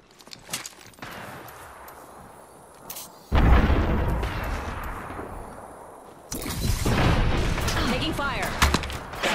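Video game combat rumbles with heavy gunfire and booming impacts, quiet scattered shots giving way to two loud sustained barrages, with a voice speaking amid the noise.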